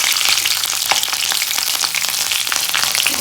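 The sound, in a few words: green chillies frying in a pan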